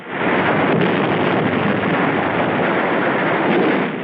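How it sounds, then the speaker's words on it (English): Hand grenade explosions in combat on Tarawa, a dense continuous roar of blasts and rumble holding steady and loud for the whole stretch with no clear separate bangs. "Hand grenades."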